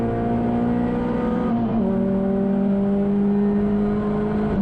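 On board a saloon race car among CSCC Tin Tops touring cars at Thruxton, the engine drones loud and close, with a quick upshift partway through before the note climbs again.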